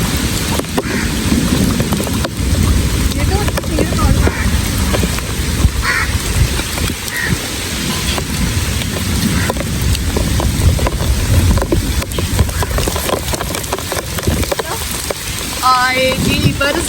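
Heavy stormy rain pours down steadily, a dense, loud wash of noise throughout with scattered clatters and splashes, and faint voices now and then underneath.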